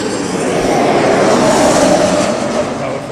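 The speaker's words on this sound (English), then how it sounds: "This is the Air Dolomiti Embraer." Air Dolomiti Embraer airliner at London Heathrow Airport, its engines giving a loud, steady broadband roar that swells slightly and holds throughout, close by with no talking.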